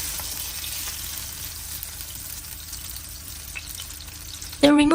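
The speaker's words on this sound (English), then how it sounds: "Hold the steak upright and sear the edges as well." Steak searing in butter in a hot pan gives a steady broadband sizzle that holds at an even level throughout, with a brief louder clatter near the end.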